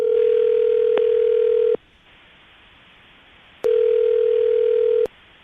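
Telephone ringback tone as a call rings out, two long steady electronic rings separated by a silent gap, loud and clear with no voices.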